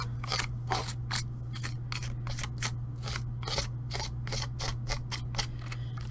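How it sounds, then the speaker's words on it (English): A tool scrapes excess art product off onto a sheet of paper in rapid, rhythmic strokes, close and quiet over a steady low hum. "I think I'm just going to scrape that off onto that piece of paper"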